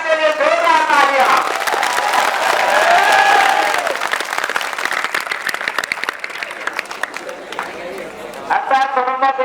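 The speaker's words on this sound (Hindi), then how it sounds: "जयराम सर के लिए जोरदार तालियां।" Loud crowd applause and cheering for a teacher at a school academy's class results event, a sustained roar of clapping with voices mixed in, easing somewhat toward the end as talking resumes.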